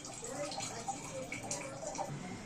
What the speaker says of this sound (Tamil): அப்புறம் இன்னும் கொஞ்சம் தண்ணி ஊற்றுறாங்க அம்மா.